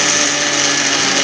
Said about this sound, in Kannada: ಇವಾಗ ನಾನು ಅದನ್ನು ಮಿಕ್ಸಿ ಮಾಡ್ಕೊಳ್ತಾ ಇದ್ದೀನಿ.